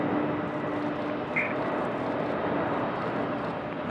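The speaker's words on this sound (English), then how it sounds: "So Frontier about to make their touchdown." A Frontier airliner touching down at Raleigh-Durham airport, heard as a steady, distant broadband roar of jet engines and rushing air that holds evenly throughout with no voices.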